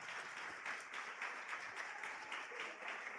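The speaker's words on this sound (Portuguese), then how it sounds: "Vamos aplaudir o Senhor novamente" A church congregation applauding during a Sunday service, a soft, even wash of many hands with gentle swells, fairly quiet and steady throughout, with no speech over it.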